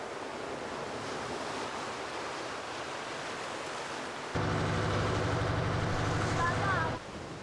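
Wind and surf wash steadily off a Marquesas island in Polynesia, then a boat's engine rises into a loud, even drone for about three seconds before dropping back to the sea noise.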